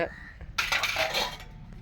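Dishes and pots being washed outdoors in hot daytime sun, with close metallic clinks and a burst of clattering scrubbing and rinsing in the middle, no voices.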